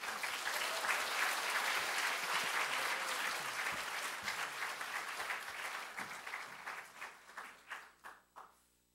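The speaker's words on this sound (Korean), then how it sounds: "나오실 때 큰 박수로 부탁드립니다." A church congregation in Yangsan breaks into loud, dense applause that holds steady, then thins into scattered claps and dies away near the end.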